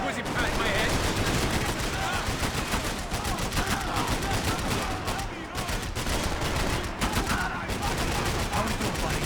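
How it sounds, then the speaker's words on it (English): Heavy gunfire in the video game Max Payne 3, a loud, dense barrage of rapid automatic shots and bursts with bullets whizzing past, continuous across the whole stretch. "I can't concentrate with bullets whizzing past my head."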